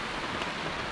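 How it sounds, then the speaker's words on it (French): Steady rain falls on a sailing boat anchored off the Cape Verde islands, a dense even hiss that fills the moment without let-up and without any voices. "Il faudrait que la pluie s'arrête"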